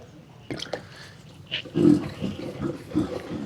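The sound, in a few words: plumbing vent trap gurgling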